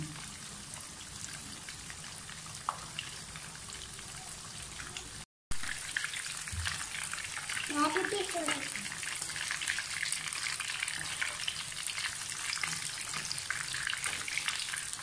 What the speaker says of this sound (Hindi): थोड़े से और फ्राई करेंगे